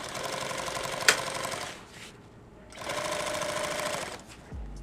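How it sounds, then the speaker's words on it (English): A sewing machine stitches a Cordura kit bag in two loud, steady runs of rapid needle chatter, separated by a short pause with a click. "So now I'm going to come back and basically just hit that same stitch line I did."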